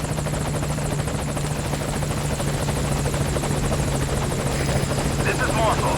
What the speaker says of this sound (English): We called for the helicopter.